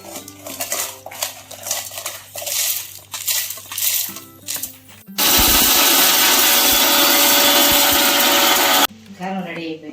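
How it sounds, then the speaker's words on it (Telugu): A kitchen mixer grinder grinds dried red chillies into powder, a loud steady whirring roar lasting several seconds after clinks of the jar and utensils, then cutting off abruptly. "కారం రెడీ అయిపోయింది, మిక్సీ పెట్టేసాం."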